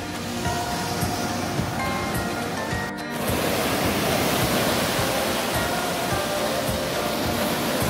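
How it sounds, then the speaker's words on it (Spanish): Ocean waves breaking on the beach at Tecolutla, Mexico, a loud continuous roar of surf close by, with a brief dip before the rush swells again and sustains. "Muy relajante escuchar las olas."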